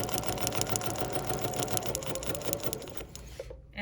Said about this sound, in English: And now I'm gonna stitch.